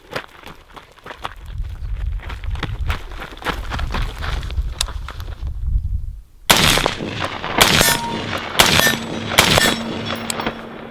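An AR-15 rifle fires a string of sharp shots down range outdoors, first lighter cracks with footsteps and movement, then louder, ringing reports in quick bursts after a brief pause.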